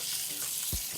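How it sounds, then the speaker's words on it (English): Pork belly searing skin side down in a pan of extra virgin olive oil and grapeseed oil, a steady broadband sizzle with a few louder spits and pops near the end, close and continuous. "Got the sizzle we're looking for."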